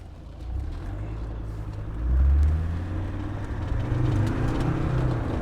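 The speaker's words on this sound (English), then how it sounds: "let's go ahead and go through the gears one more time" A 2000 Land Rover Defender Td5 110 on the move, its engine a steady low rumble that swells as it pulls through the gears, with road and wind noise throughout and no speech.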